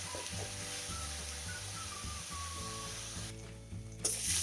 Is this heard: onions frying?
yes